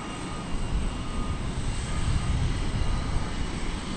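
Envoy airliner on its takeoff roll from runway 18 Left at DFW Airport, a broad steady engine roar with low rumble that rises slightly and holds, heard from a distance with no talking.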